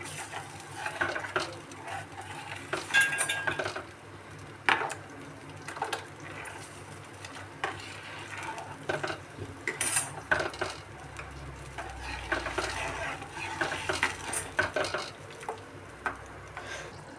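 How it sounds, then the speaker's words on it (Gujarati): Tomato puree for a Punjabi restaurant-style gravy simmers in a pot while a spoon scrapes and clinks against the metal in irregular strokes, with faint bubbling underneath. "ટમેટાની પ્યુરી નાખશું ને ફ્રેન્ડ્સ પછી એને આપણે થોડી વાર સુધી ઉકળવા દઈશું"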